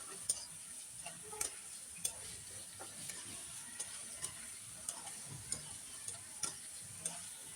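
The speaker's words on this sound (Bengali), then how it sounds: "দেখতে পাচ্ছেন এখন শুধু তেলের মধ্যে মিষ্টি কুমড়া ভাজা হচ্ছে, কোনো পানি নেই।" Pumpkin frying in oil with no water left sizzles softly and steadily, with regular light ticks and taps of stirring spaced through the quiet, fairly faint sound.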